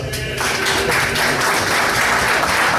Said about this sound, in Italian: Un applauso a tutti i ragazzi che mi hanno aiutato